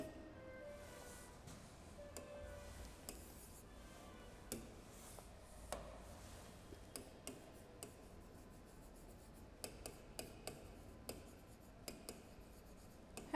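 A heading being written on a board during a physics lesson, with soft scratching strokes and irregular light taps, quiet and close, and no speech.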